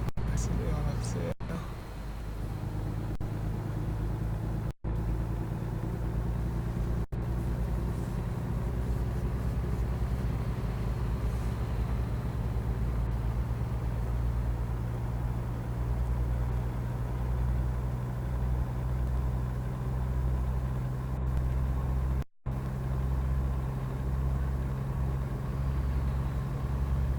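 A truck engine in American Truck Simulator pulls away and accelerates, a steady, loud low drone whose tone climbs gradually as it runs continuously.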